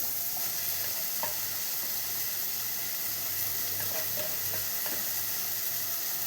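Boiled, lightly smashed potatoes being mixed into a dry, low-oil masala frying in a pan for aloo matar kachori: a continuous soft sizzle with faint intermittent scrapes of stirring, fairly quiet and steady, no talking.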